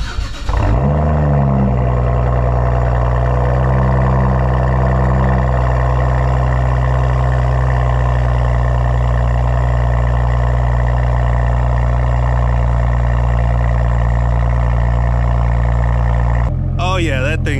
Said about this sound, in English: You guys are about to hear a cold start on a fresh battery.